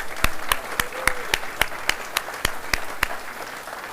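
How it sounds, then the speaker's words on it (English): A small audience at an evening lecture applauds with sparse, distinct individual claps ringing out at an irregular pace, fairly close in a quiet room. "let's give them a round of applause"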